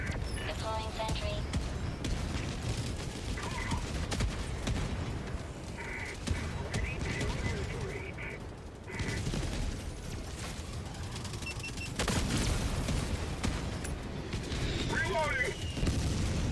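Rocket sentry turret in Helldivers 2 firing in a dense battle mix of explosive booms and gunfire bursts, with game voice callouts over the continuous loud action.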